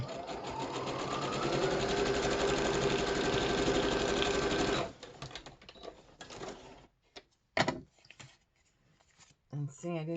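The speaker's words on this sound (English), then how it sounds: "I'm going to sew this." Sewing machine stitching paper ephemera, a steady close mechanical whir running for about five seconds, then stopping, followed by quiet handling noises and brief rustles.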